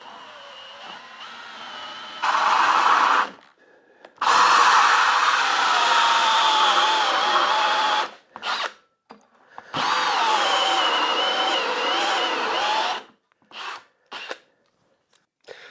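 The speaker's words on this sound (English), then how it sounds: "Now I'm going to use my hole saw, which is almost the same size as the hole in the bottom of the router plate" A power drill drives a hole saw through a new router plate in three long, loud bursts of whining cutting, separated by pauses and followed by a few short blips.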